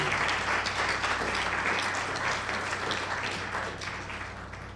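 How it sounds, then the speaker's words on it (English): A crowd at an IEEE IoT startup night applauds its panelists, a loud, dense wash of clapping that holds steady for several seconds and slowly tapers. "give a tremendous round of applause to our panelists"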